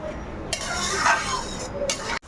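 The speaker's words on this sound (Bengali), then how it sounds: "এই যে আমি মাছটা করছি, মশলাটা কষাচ্ছি।" A spoon stirs spiced masala with katla fish frying in a pan: scraping and clinking at a steady pace over a soft sizzle, close by, with a faint voice in the background.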